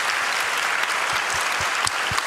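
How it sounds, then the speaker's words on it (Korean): A church congregation claps together in a brief, dense burst of hand clapping that stays steady and close for about two seconds. "자, 한 박수 한번 하세요."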